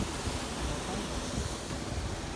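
Water waves wash in a steady, dense roar, mixed with wind noise across the microphone, loud and continuous without clear breaks.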